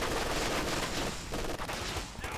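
Machine gun fire in a video game, a steady stream of loud, dense rattling shots that runs continuously through the whole short stretch.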